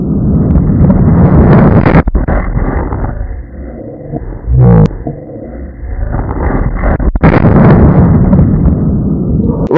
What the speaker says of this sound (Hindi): तो देखा गाइस क्या ब्लास्ट हुआ था।